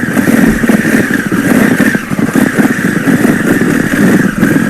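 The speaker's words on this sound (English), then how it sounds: "So all that blipping, so all the blipping is going against the rear brake." A Honda Africa Twin motorcycle engine is blipped repeatedly while held against the rear brake, a loud, close, continuous engine drone with quick rhythmic rises in revs and no talking.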